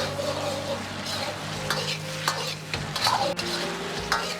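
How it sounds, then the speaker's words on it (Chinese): Tofu is stir-fried in a wok over high heat, with a continuous loud sizzle and the rhythmic scrape and clatter of a spatula tossing the food. "开大火快速翻炒几下，炒出锅气，炒出香味"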